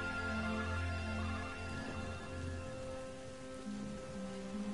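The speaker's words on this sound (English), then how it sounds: "You cannot go out in that rain." Corrosive rain in LEGO Star Wars: The Force Awakens, a steady patter of rain falling on surfaces under a low tonal game soundtrack, with no talking.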